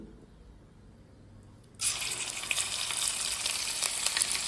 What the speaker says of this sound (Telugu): ఒక టేబుల్ స్పూన్ అల్లం అయితే వేసుకుందాం తాలింపుకి